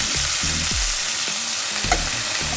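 Fried ravioli sizzle steadily in a hot pan as they are flipped, a continuous close hiss of frying broken by short clatters of the pieces being turned, with no talking.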